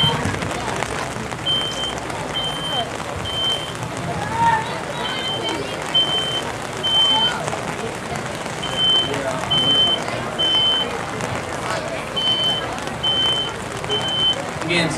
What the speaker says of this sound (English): Smoke detector's going off 6 seconds.